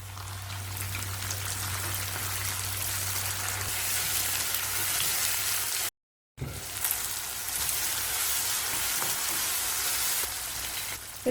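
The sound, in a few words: sautéing onions and tomatoes in a pan for Chettinad chicken kurma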